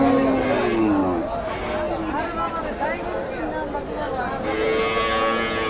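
Native cattle mooing at a busy rural cattle market, several drawn-out moos from nearby animals rising and falling over a steady murmur of crowd chatter and voices.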